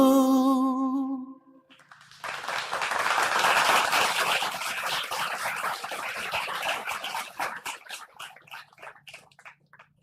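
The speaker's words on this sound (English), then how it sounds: "another big round of applause for this spectacular performance" An audience breaks into applause after a performance at an inspirational talk event in Jakarta, a dense wash of clapping that rises after a brief tonal ending, holds for several seconds, then thins into scattered claps.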